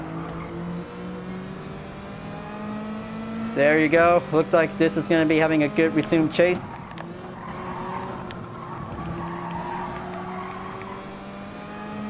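Race cars lapping in Gran Turismo Sport, engines droning and shifting pitch with faint tire noise, as a commentator talks over the racing for a few seconds.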